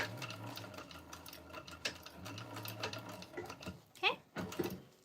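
Sewing machine back-stitching a modified EBTM tote bag, a quick burst of close mechanical stitching with a few clicks, amid a soft voice and background handling noise.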